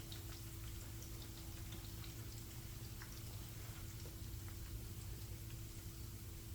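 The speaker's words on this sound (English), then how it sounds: "as your chips is frying now" Sweet potato chips frying in hot oil for a homemade snack give a steady, even sizzle and crackle with faint scattered pops, close and constant throughout with no talking.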